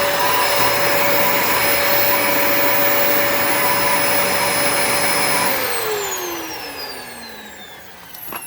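A Fantom Cyclone XT upright vacuum runs with its brush roll motor on, in need of a new belt, giving a loud steady whine with a tonal hum that winds down and falls in pitch near the end.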